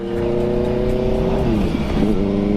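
A Kawasaki ZX25R motorcycle engine holds a loud, steady high-revving drone, shifted with a quickshifter, its pitch dropping briefly at two quick gear changes near the end.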